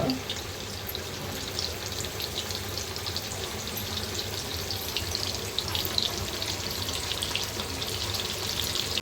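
Fresh Bombil fish frying in hot oil, a continuous dense hiss and crackle close by, steady in level throughout, with faint background voices now and then.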